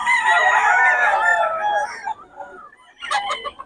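A white Kelso rooster crows loudly and close by, one long drawn-out call that trails off, followed by a brief burst of clucking.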